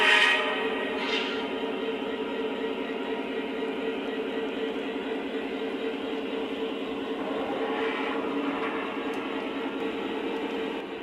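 A Lionel model train, an F40PH locomotive pulling an Amtrak Amfleet cab car, runs with a steady, close whirring rumble of motor and wheels that holds even throughout.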